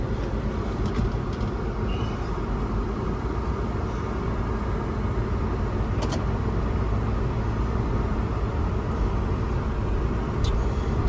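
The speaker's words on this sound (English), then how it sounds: "What you're hearing is the compressor, as you should hear it." The air suspension compressor on a Land Rover LR3 runs as a steady, dense mechanical hum and whir, constant throughout with faint clicks, close and unbroken, no talking.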